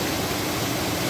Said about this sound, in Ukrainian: найкращий звук в світі, мабуть, це звук води, що біжить.